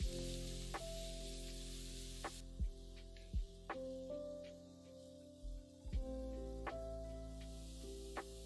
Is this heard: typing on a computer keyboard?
no